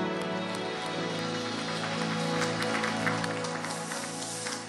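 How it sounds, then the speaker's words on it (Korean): A church youth worship congregation claps in applause, a dense steady wash of hands filling the space, with faint musical tones sustained underneath and no clear voices. "주님께 영광의 박수 올립시다."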